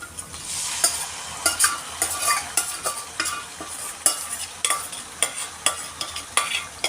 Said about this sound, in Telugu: దీనిలోనే మనం ఉడకబెట్టి రుబ్బుకున్న గోంగూర వేసుకుంటున్నాను